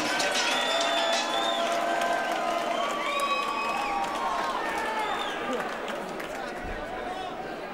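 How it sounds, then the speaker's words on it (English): Arena crowd at a bare-knuckle heavyweight fight event cheering and applauding as a steady loud roar, with shouts and whistles rising over it and voices throughout. "let's have a round of applause for these two heavyweight warriors"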